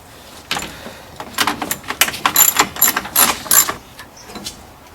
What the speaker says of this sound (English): once we've loosened the top screws of the radiator fan